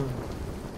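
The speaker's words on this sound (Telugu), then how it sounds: "బయట తుఫాన్ వస్తుంది" Steady rain with a low rumble of thunder during a storm, a dense, even wash of noise that fills the short moment without pause.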